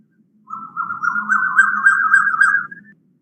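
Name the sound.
Asian koel call, played recording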